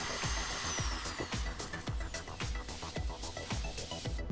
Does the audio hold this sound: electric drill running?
yes